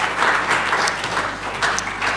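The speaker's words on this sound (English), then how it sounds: "Please, with a warm round of applause, can we welcome Dr. Oho Okiti" At a national launch event for the Human Development Report in Nigeria, a conference audience gives a warm, full round of applause to welcome a panelist, steady and fairly loud throughout.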